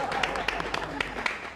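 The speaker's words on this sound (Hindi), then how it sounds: "तालियां।" A small crowd breaks into scattered applause after a promise of free houses in a television comedy scene, with a handful of distinct, sharp claps over a steady murmur of voices.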